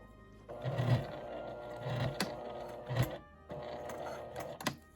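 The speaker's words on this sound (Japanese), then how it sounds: "ちょっと縫い代が固まっているのでゆっくりミシンを回します。" Sewing machine run slowly along a center seam of a fabric accordion card case where the seam allowance is stiff, giving a steady close mechanical whir with rhythmic thumps and a brief pause, no talk.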